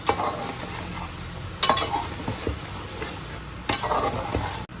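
Chicken stir-fried in oil with cinnamon, cloves, cardamom and black pepper sizzles steadily, with a few sharp spatula scrapes against the pan standing out from the continuous frying noise.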